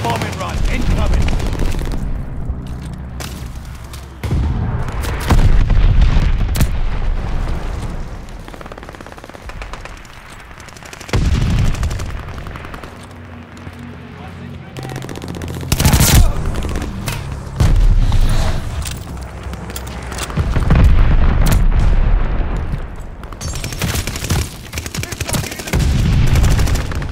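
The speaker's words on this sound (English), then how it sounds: "Allies call the bombing run. Incoming." Heavy gunfire and repeated explosions from a bombing run in the Call of Duty: Vanguard team deathmatch, with loud bursts and booms rising and falling over about half a minute, mixed with brief in-game voice callouts.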